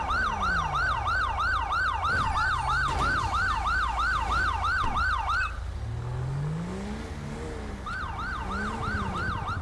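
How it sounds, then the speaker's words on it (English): A wailing police siren in the video game LSPDFR cycles rapidly and loudly over engine rumble, cuts out briefly, then starts wailing again. "I'm gonna turn my stupid siren off."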